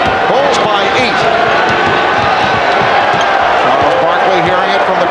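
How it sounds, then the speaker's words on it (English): Arena crowd at a Suns versus Bulls NBA playoff game, a loud continuous roar and murmur with sneaker squeaks and ball bounces mixed in, steady throughout. "Hearing it from the crowd as he backs his way."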